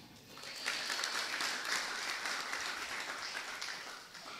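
Applause swells through a church seminar audience, starting softer and quickly building into full, even clapping from many people that holds steady until the end.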